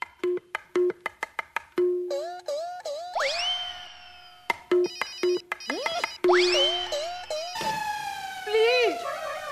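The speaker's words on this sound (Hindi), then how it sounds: "वापस फोन लगाता हूँ।" A phone being redialed after a hung-up call: a quick series of dial-tone beeps followed by warbling ringing tones, repeated twice, close and clear with no talk.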